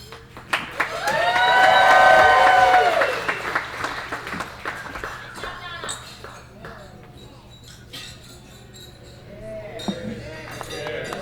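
Wedding guests applaud after a toast to the bride and groom, a broad wash of clapping that swells early, then thins into scattered claps beneath a speaking voice and the clink of glassware.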